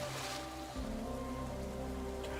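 Steady, even rain falls in a story scene of the game Nikke: Goddess of Victory, a continuous hiss of drops on surfaces with faint tonal background music woven underneath.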